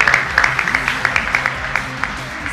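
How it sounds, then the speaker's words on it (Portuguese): Short burst of clapping at a corporate management competition awards event for the second-placed team, with distinct individual claps over a music bed, moderately loud and brief. "Salva de palmas para a segunda classificada"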